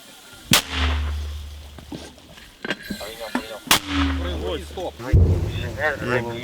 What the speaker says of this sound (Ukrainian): Вогонь. Постріл!